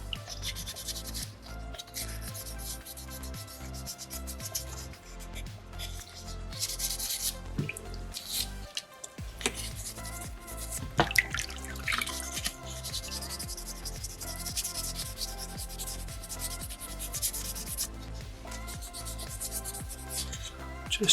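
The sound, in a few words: sanding soapstone carving with 600 grit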